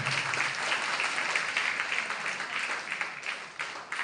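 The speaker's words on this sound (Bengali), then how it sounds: "এটা জোরে করতালি দেবেন ওনার জন্য।" An audience applauds the festival's guest of honour, a member of parliament, at an inauguration ceremony. Steady, fairly faint clapping fills about four seconds and thins slightly toward the end.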